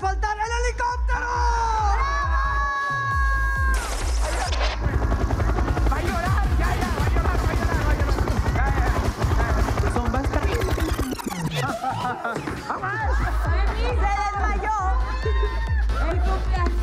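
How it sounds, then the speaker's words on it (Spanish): A helicopter's rotor thumps and drones loudly throughout, mixed with crowd noise, music and voices. "no puede faltar el helicóptero"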